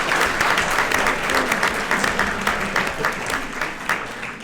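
An audience at a university robotics exhibition claps together in steady, fairly close applause that holds evenly for several seconds, then gradually softens.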